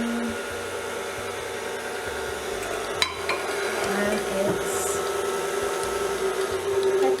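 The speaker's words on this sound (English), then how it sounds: "One last mix." Chocolate caramel cake batter for an Armenian Mikado cake being given a final mix, a steady whirring mixer-like drone with scraping and a sharp clatter partway through, continuous and fairly close.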